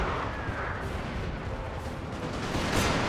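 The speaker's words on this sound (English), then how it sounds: "I'm firing all guns from the artillery onto the cavalry unit." Artillery guns firing on a cavalry unit in the Napoleon Total War video game, a dense, continuous rumble of cannon fire and battle noise that holds steady throughout, with a slightly louder burst near the end.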